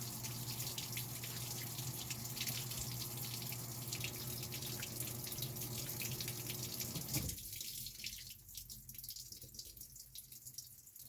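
Water pours steadily into a Maytag Bravos washing machine set to a normal wash, a soft hissing, splashing stream that shifts to a quieter trickle near the end.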